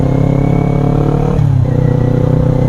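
A 2022 Kawasaki Ninja 400 revs hard under acceleration, its engine note loud and close, climbing steadily with a brief dip as it shifts before pulling on again, with no talk over it.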